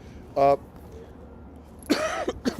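A single short cough or throat clear, close by, followed by a person speaking.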